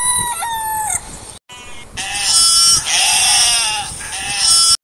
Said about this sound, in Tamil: ஆட்டுக்குட்டி கத்தாதுங்க